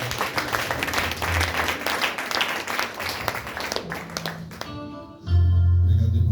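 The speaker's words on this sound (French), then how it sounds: "Est-ce qu'on peut acclamer le Seigneur?" A church congregation bursts into loud, sustained applause and clapping, a dense wash of many hands over about five seconds, before it cuts to a steady low musical tone.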